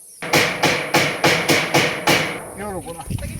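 A hammer strikes six times in a quick, even rhythm, loud sharp knocks close by, followed by a brief voice.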